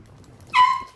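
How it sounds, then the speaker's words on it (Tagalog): A dog gives a single short, sharp bark from fairly close by, preceded by near silence. "Ang ingay ng aso."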